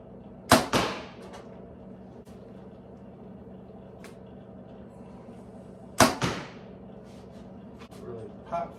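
Two sharp, loud arrow impacts land on a target bag during carbon bow testing, spaced about five seconds apart, each a crisp pop with a short decaying tail over quiet outdoor background.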